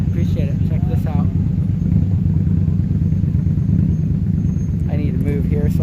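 A couple of motorcycles pull in at an outdoor car cruise-in, their engines a steady low rumble close by, while people talk over them at the start and end.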